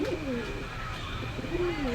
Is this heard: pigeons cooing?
yes